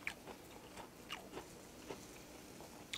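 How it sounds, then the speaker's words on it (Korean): Someone chews tender, lean pork back meat close to the mic, with soft wet bites and a few crisp crunchy clicks at irregular intervals over quiet background. "고기만 따라 먹어보겠습니다."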